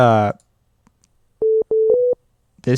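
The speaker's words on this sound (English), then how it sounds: "So all we have is our sine wave" Pure electronic sine-wave tones from an FM8 synthesizer in three short steady beeps, clean and close, with brief speech at the start and end.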